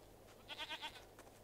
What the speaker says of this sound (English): Bloody goats.